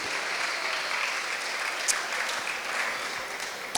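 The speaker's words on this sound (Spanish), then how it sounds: "Vamos a darles un aplauso fuerte también a ellos." Church congregation gives a dense, steady round of applause that stays even throughout.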